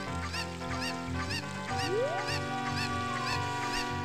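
Cucco chickens in the Zelda Ocarina of Time game cluck in repeated squawking bursts over the game's music, one rising squawk standing out partway through.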